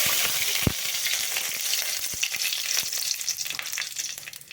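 Curry leaves and mustard seeds crackling in hot oil, a loud continuous sizzle up close with scattered pops and a sharp crackle burst near the start, no voices.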